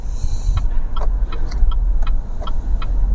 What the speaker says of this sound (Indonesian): Kalau di standar, selain suara mobilnya yang bunyi seperti itu kayak ada ngung,